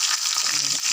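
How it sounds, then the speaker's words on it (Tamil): Mustard seeds and curry leaves tempering in hot oil with a pinch of asafoetida, a steady bright crackling sizzle close up, with faint stirring and no talk. "நம்ம இப்போ தாளிச்சிடலாம் ஃப்ரெண்ட்ஸ். நல்லா பொரிய ஆரம்பிச்சிடுது."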